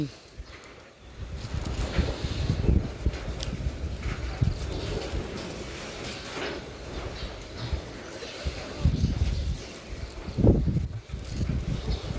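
Strong wind blows through trees on a cold morning, a rough, gusting rumble that surges and fades, close to the microphone, with a person talking faintly now and then.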